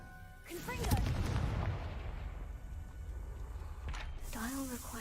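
A booming fiery explosion from the Confringo spell in a wizarding video game bursts near the start, rolling and rumbling for a few seconds before tapering into background game ambience with a few chiming tones.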